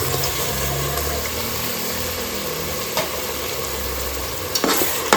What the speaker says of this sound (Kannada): ಮಸಾಲೆನ 1-2 ನಿಮಿಷ ಫ್ರೈ ಮಾಡ್ಕೊಳ್ಳೋಣ